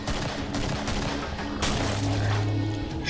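Rapid gunfire from the video game Killing Floor, a fusillade of sharp overlapping shots with booming impacts, loud and continuous for the whole stretch, with no voices.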